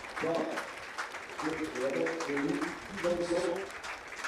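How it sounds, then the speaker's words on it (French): An audience applauds the newly crowned French veteran pétanque triples champions, a steady wash of clapping running beneath a voice speaking over it. "Nous pouvons les applaudir"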